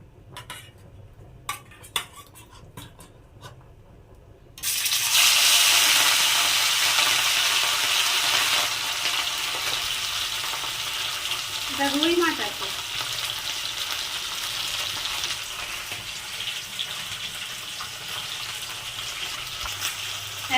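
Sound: rui fish frying in hot oil

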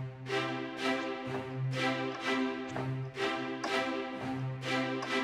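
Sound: short epic strings from Spitfire Audio playing waltz

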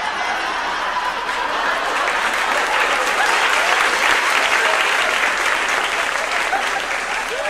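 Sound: audience applauding a comedian

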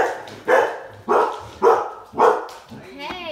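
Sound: scared puppies barking

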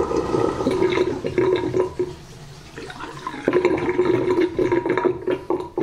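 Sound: water draining from unblocked bathroom sink

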